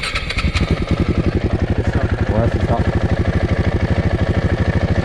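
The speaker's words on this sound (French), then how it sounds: "je mets le contact et la moto redémarre" A KTM 690 Supermotard or BMW 1200 GS motorcycle restarting after an ignition coil repair, then idling close by with a rapid, even pulsing beat while someone speaks briefly over it.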